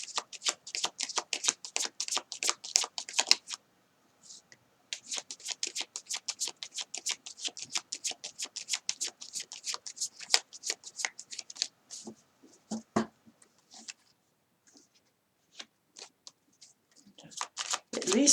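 Tarot cards are shuffled by hand in long rapid riffling runs, close and crisp, with pauses and a few soft taps between bursts.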